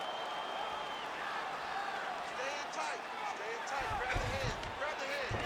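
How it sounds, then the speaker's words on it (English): Arena crowd at a women's MMA bout between Valentina Shevchenko and Joanna Jedrzejczyk roars steadily during ground grappling, a broad sustained wash of noise under a commentator talking, swelling near the end. "The crowd's going crazy because they just saw two high-level grapplers mix it up on the ground."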